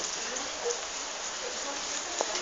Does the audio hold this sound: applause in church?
no